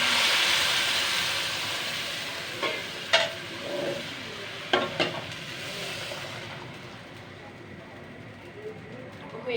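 Onion and garlic fry with a steady broad sizzle for a dal tempering, broken by a few clinks and scrapes of a stirring spoon, with background sounds around a home kitchen.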